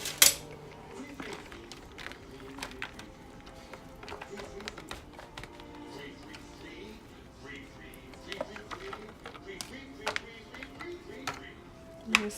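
Ground beef is pushed and spread around a pan with a utensil, producing scattered scraping taps and clinks of metal on cookware while a person talks over it.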